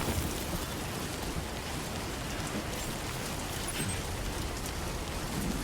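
Timefall rain in the video game Death Stranding 2 falls in a dense, even hiss of drops on surfaces. It is steady and enveloping throughout, with no voices over it.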